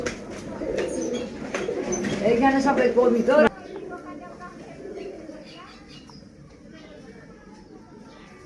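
Pigeons coo softly in a pigeon-sale loft, their low calls running beneath a man's close, continuous talking, then fading to a quieter murmur.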